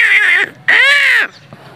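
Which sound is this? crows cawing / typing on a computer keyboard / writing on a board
crows cawing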